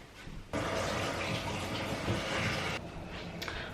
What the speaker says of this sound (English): I'm going to go give my hands a little wash because they are so messy.